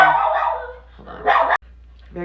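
An anxious small dog barks in short sharp yaps, a few close bursts with gaps between them, with a voice briefly heard nearby.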